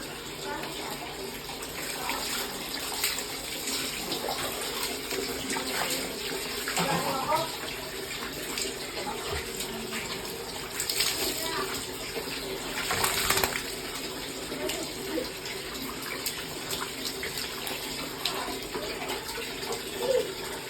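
Water runs steadily from a tap while a dog is being bathed, a continuous close splashing flow with a few louder gushes partway through and faint voices in the background.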